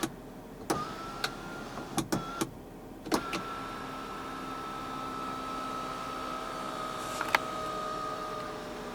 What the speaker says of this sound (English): You can also open up the sunroof as a vent.